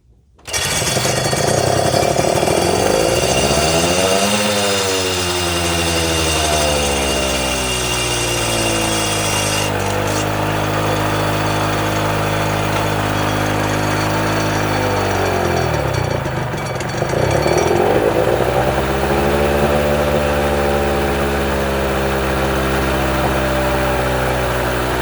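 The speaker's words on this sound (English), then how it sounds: "it will rip like a regular two-stroke rips" A 1992 Honda NSR250SP two-stroke motorcycle engine, close and loud, revving up and down repeatedly with a buzzy, rising and falling pitch over a steady idle.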